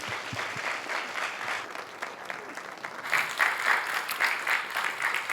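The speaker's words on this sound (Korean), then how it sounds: "우리 박수를 받겠습니다." A church congregation applauds during a Sunday family worship service as a pastor is called forward, steady clapping that swells louder partway through, with faint voices beneath.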